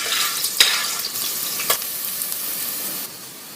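Garlic and onion stirred and sautéed in a pan for eggplant parmesan: a steady bright sizzle with two sharp utensil scrapes, close and alone, easing off near the end.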